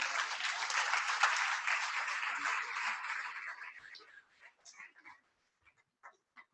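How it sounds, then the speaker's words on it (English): Audience applause at a conference opening ceremony, a full burst of clapping that fades over several seconds and thins into a few scattered, distant claps before falling silent. "Another round of applause for"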